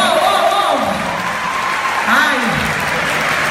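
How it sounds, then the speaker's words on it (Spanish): Applause from a church congregation at a Spanish-language sermon, a broad steady wash of clapping with cheering voices rising over it, with the preacher's vocalizing audible over the top. "Dale un aplauso fuerte a Dios."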